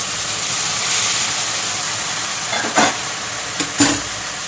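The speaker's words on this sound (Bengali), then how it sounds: "আমি একটু গরম জল দিচ্ছি।" Hot water poured into a pan of sizzling hilsa fish curry with ridge gourd, a steady frying hiss building and then a few short splashy bursts near the end, up close with no talking.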